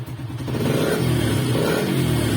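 A Honda TMX 125 Alpha motorcycle engine runs close by with a loud, steady, rough mid-pitched drone, rising slightly at the start and then holding constant; the engine is said to struggle to burn its fuel.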